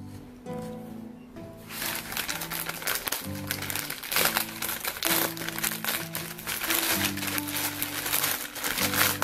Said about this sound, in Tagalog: Bubble wrap pa siya para protected yung product.